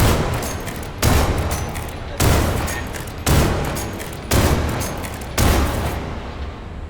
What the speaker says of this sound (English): If you switch to single fire, you will need to reload after every shot